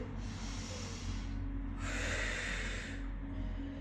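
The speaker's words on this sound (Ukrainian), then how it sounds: "З цього положення ми робимо вдих, повний, повний видих." Deep breathing during a whole-body exercise practice: a long, full breath drawn in and pushed out close to the microphone, loud and breathy, with nothing else heard.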